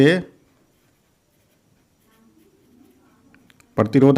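Faint scratching of writing on a board while a numerical physics problem is worked out, a soft, quiet stretch bracketed by a teacher's speech at the start and end.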